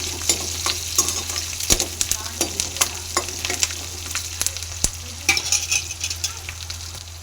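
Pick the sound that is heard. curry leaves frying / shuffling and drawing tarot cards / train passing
curry leaves frying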